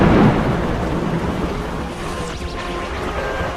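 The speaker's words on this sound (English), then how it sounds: "And it's raining." Heavy rain pours steadily at a Mediterranean port, with a deep roll of thunder at the start fading into a broad, loud hiss of rainfall.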